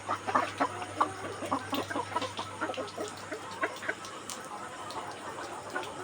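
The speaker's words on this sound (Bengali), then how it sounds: "সবগুলো মুরগি প্রায় হা করে নিঃশ্বাস নিচ্ছে" Many chickens cluck in a busy chorus, overlapping calls close by over a constant low hum in a crowded poultry farm during heat stress, birds panting open-beaked.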